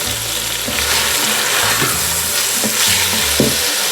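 Ginger, garlic and celery stir-fry in a Ninja Foodi with a steady loud sizzle, broken by the scrapes and knocks of a non-stick spatula stirring close by.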